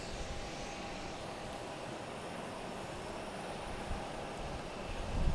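Aircraft at Boston's Logan Airport, a distant low jet engine rumble holding steady and swelling slightly near the end, faint and continuous with no talking.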